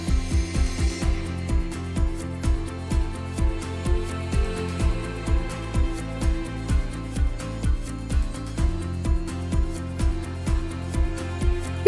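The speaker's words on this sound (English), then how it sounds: "Now I'm using a pale orange crayon." A pale orange crayon colors a drawing of a cute dog on paper in quick, even back-and-forth scratching strokes, about two per second, close and steady for the whole stretch, with a soft musical background underneath.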